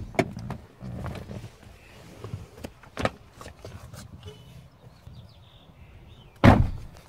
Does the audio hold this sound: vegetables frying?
no